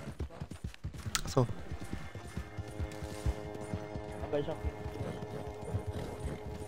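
Galloping horse hooves in Red Dead Online, a rapid steady clip-clop rhythm running throughout, close and clear, with a brief whinny and people chatting over it.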